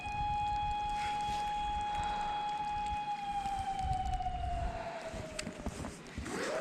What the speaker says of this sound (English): It sounds like an air raid siren